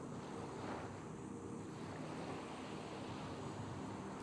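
Ocean waves wash onto a sandy beach in a steady, loud roar with wind noise on the microphone and no distinct breaks or voices.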